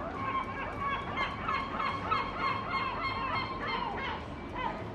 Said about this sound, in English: Seagulls were waking up us today. They're everywhere sitting, shouting.